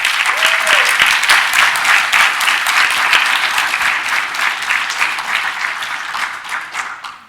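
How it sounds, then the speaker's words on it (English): Sustained, close, dense clapping from a conference audience at MageCONF 2019 fills the room, steady throughout and fading slightly at the close, with no talking over it. "Everybody clapping."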